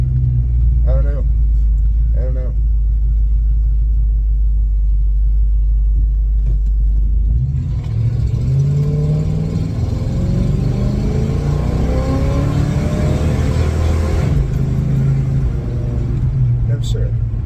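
A Chevelle's engine rumbles low and heavy during a brake stand attempt, then revs up with rising, rough harmonics before settling again, loud and close throughout.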